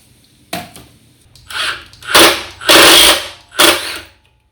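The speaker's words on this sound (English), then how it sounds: "Broke off bolt number 3." Bolts driven into a reel mower with a power driver, four separate loud ratcheting bursts a little over a second long with short pauses between them, close up and with no talking.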